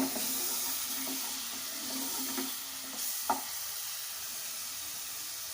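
Ginger-garlic paste frying in oil with golden-browned onions for a dhaba-style moong dal tadka: a steady soft sizzle throughout, with occasional light stirring clinks, and no speech.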